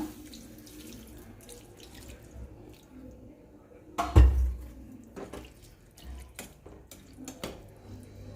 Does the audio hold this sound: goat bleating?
no